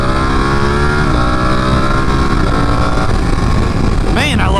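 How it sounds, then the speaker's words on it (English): A 2018 Ducati Panigale V2 motorcycle engine hums steadily and loudly throughout, with a rising rev near the end, close to the listener. "I still think the V2 Panigale is the best sounding motorcycle on the face of the planet"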